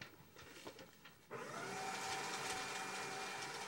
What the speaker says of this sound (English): why don't you grind that up?